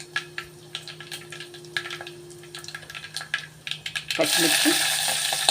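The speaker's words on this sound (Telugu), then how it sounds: "ఇప్పుడు ఈ మెంతులు, ఆవాలు, జీలకర్ర, పోపు ఇవి చక్కగా దోరగా వేగాలి" Fenugreek, mustard seeds and cumin tempering in hot oil with a pinch of asafoetida, ticking with scattered small pops before a louder, sustained sizzle swells near the end while a person speaks.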